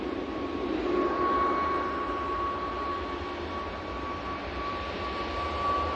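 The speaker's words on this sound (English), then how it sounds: "Ryanair now on the roll" A Ryanair airliner on its takeoff roll at Manchester Airport, bound for Dublin, gives a steady broadband engine roar with a thin sustained whine, moderately distant and even throughout, with no voices.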